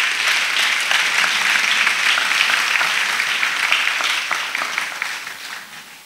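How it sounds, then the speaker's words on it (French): A church congregation claps loudly together, a dense and sustained round of applause that fills the room and fades slightly near the end. "Clap for yourself."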